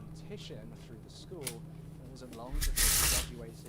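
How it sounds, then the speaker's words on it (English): A deck of playing cards riffled in a fancy one-handed shuffle, a short hissing flutter near the end following someone speaking casually beforehand. "I'll give you one more fancy shuffle. Give you one of these with the one hand."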